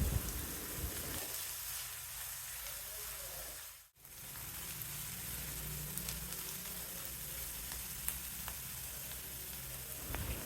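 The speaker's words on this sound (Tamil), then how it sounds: "பொடிசாக வெட்டின வெங்காயம் 1/2 கப் அளவுக்கு, அதோட ஒரு கொத்து கருவேப்பிலையும் சேர்த்துட்டு வெங்காயம் கலர் கொஞ்சம் மாறுற வரைக்கும் வதக்கினா போதும்" Half a cup of finely chopped onion and a sprig of curry leaves sauté in a pan for a masala omelette, giving a steady, moderately loud sizzling hiss with a brief dropout partway through. No one talks.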